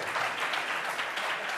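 Dense, steady applause fills a debate hall during a 2010 public debate on Catalan independence, many hands clapping evenly and close throughout the short stretch with no voices over it.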